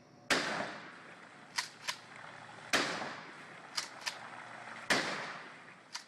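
Gunfire shoots into a swimming pool, with three sharp loud shots at even intervals, each followed by fainter smaller cracks and splashy decay against a hissing background.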